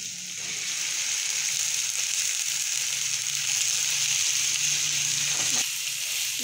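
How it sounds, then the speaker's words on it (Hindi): Goat liver (kaleji) fries in a pan of cooked masala, giving a steady, close, bright sizzle and hiss that holds throughout with no talking. "मसाला हमारा फ्राई हो चुका है। अब हम लोग इसके अंदर कलेजी डाल रहे हैं।"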